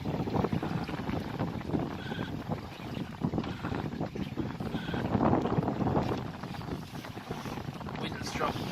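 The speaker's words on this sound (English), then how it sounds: "Wind's dropped quite a bit." Wind gusts over a boat lying at overnight anchor in a tidal nature reserve, a steady rushing roar with buffeting on the microphone and faint creaks, constant throughout.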